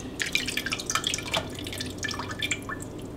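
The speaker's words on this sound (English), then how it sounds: "We'll stick these in the blender and add 3 cups of water" Water splashes and trickles into a blender jar, with small drips and light sloshing, close by and fairly quiet, no voices.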